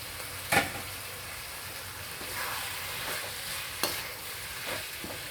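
Beans and capsicum sautéed with tomatoes in a pan for a vegetable stuffing, a steady low sizzle with a few sharp spatula scrapes and taps against the pan.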